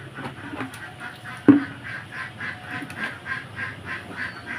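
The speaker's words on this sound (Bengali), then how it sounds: "আর হাঁসগুলো যে প্যাক প্যাক শুরু করে দিয়েছে" Ducks quack in a steady run of short, nasal calls, with a sharp knock partway through and faint background clatter.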